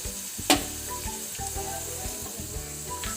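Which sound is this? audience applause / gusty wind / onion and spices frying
onion and spices frying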